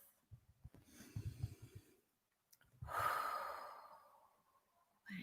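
A slow, deep breath drawn in through the nose, a short pause, then a long, audible exhale that fades out. It is close and quiet, in a calm guided-relaxation setting.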